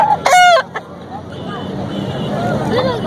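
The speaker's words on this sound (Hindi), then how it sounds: "ये मुर्गों की मार्केट है, देसी मुर्गे और मुर्गियाँ और चूजे वगैरह दस्तियाब हैं यहाँ पे।" Desi roosters and hens fill a busy chicken market in Korangi, Karachi. One rooster crows loudly and close at the start, followed by softer clucks over a steady background of crowd babble and voices.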